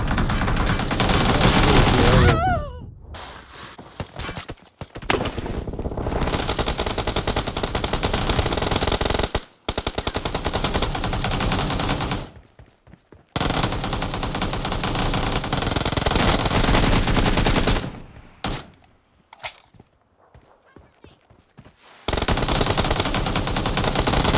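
Video game gunfire rattles in long, loud bursts of rapid automatic fire, broken by short pauses and quieter gaps.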